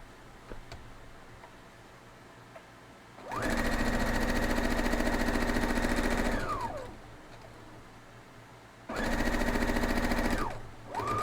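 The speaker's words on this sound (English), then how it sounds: "We're going to go over and sew these two up." A sewing machine stitching quilt block pieces runs in two steady, fast-ticking bursts, the first about three seconds long and the second shorter, with quiet pauses around them.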